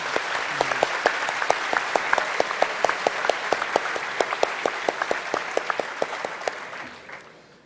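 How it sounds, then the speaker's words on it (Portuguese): A church congregation claps steadily in sustained thanks, a dense crackle of many hands with sharp individual claps standing out, fading away toward the end. "vamos dar a eles uma salva de palmas de agradecimento"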